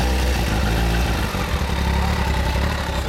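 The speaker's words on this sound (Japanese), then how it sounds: "この GGR エンジン音聞かせてもらえますか" A 1992 Kawasaki Zephyr 1100 motorcycle engine idles steadily up close, a low throbbing rumble with no voices over it.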